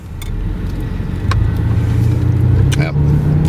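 A Chevrolet S10 compact pickup truck pulls away in two-wheel-drive high, its engine rumbling steadily and building slightly in level as it gets moving, with a few faint knocks and creaks from inside the cab.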